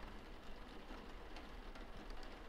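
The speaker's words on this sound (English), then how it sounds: "and the rain is falling on the window." Steady rain patters against a window, a dense even hiss of drops with faint irregular ticks, soft and continuous with no other sounds.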